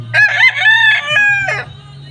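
A fighting rooster crows loudly and close by, one full cock-a-doodle-doo with a rising start and a long held note, then a short tail.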